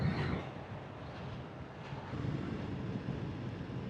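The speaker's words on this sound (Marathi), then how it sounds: "काय तो गार वारा लागतोय चेहऱ्याला" Cold monsoon wind rushing past a motorcyclist's open helmet visor on a weekend countryside ride, a steady close roaring buffet with low rumble throughout and no talking.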